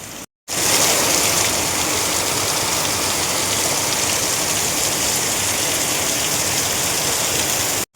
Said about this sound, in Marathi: पाऊस काय बंद होतं नावच नाही घेणार चालूच